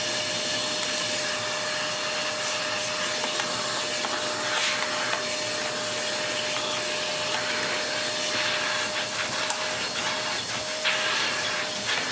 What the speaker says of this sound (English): going to make an excellent bench vac because it's going to contain all of the dust, especially with its massive filter